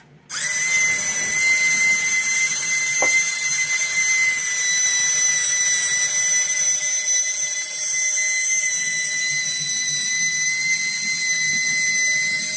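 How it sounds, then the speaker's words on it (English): Motor and crank mechanism of a 1960s Korean-made Moon-1 space explorer toy ship whirring continuously, a loud steady high-pitched whine with layered tones and a brief click, starting abruptly after a moment of quiet. "you can see how this crank mechanism is working to decide when it's going to go up and down"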